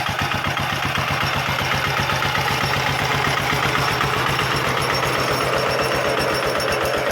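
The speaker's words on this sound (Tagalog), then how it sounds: "Ayan, nakaandar yung makina." An irrigation pump engine runs steadily on a farm with a fast, even chugging pulse and a loud mechanical drone throughout, heard close by without pauses.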